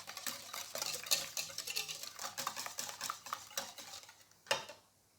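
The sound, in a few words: whisking wet pancake batter ingredients together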